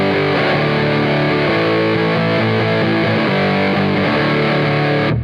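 Distorted lap steel guitar in open D tuning, chords strummed in a steady rhythm, loud and dense throughout before cutting off abruptly.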